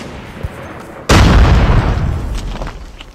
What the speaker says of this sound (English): What kind of bloody gun is this?